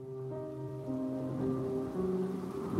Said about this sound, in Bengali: বৃষ্টি বাদলার সন্ধ্যা।